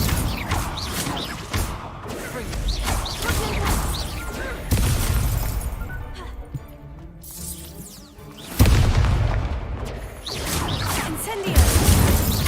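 Incendio fire spells are cast repeatedly during combat in the video game Hogwarts Legacy, producing bursts of whooshing blasts and crashing impacts at uneven intervals, with rumbling mechanical game sounds between them.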